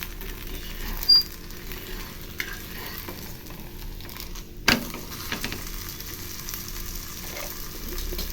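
Tapioca adai batter sizzles in oil on a pan, a soft, steady frying crackle with a couple of sharp clinks, close and fairly quiet with no talk.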